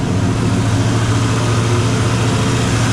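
A 1956 Chevrolet Bel Air with a carbureted engine idles high at about 1,500 RPM, giving a steady, loud, close drone with a strong low hum that holds constant throughout.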